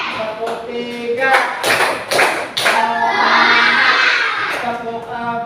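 Schoolchildren in a class clap together in a counted spirit-clapping routine, several strong clap bursts followed by shouting and cheering voices, loud and close in the room.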